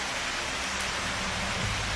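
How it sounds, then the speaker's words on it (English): Steady rain falls in the dark of 1 a.m., a dense, even hiss of drops hitting surfaces, continuous and fairly close with no voices and a slight low rumble building near the end. "You come out at 1 o'clock in the morning and watch it rain."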